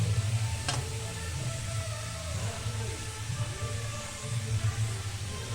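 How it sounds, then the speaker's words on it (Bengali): Chopped, washed cabbage goes into a pan of frying fish head and spices for a Bengali cabbage curry, giving a steady close sizzle with soft stirring scrapes and a faint click near the start. "বাঁধাকপিগুলোকে আমি কুচিয়ে ধুয়ে রেখেছিলাম, সেটা আমি দিয়ে দিলাম।"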